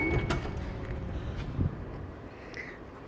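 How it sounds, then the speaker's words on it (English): Power sliding door closing on a 2013 Chrysler Town and Country Limited wheelchair van: a steady motorized whir runs throughout, with a dull latching thump about halfway and a short soft tone near the end. "Close the trunk and this passenger or the driver's side sliding door."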